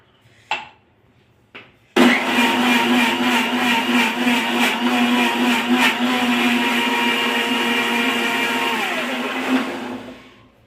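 After two brief knocks, a kitchen mixer grinds amla, carrot, beetroot and apple with water into juice, a loud close whirring motor that shifts pitch partway through and winds down near the end.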